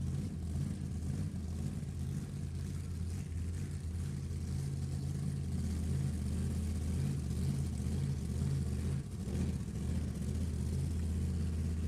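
A turbocharged 1968 Camaro drag race car with a 555-cubic-inch engine roars loud and close, a steady heavy engine drone with revving swells that holds for the whole stretch at a drag strip match race.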